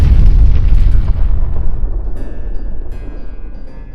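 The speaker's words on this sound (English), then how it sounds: "the explosion went bang" A deep, roaring blast from the 1921 Mt Mulligan coal mine disaster rumbles loud at first, its heavy low boom slowly fading into a long trailing rumble.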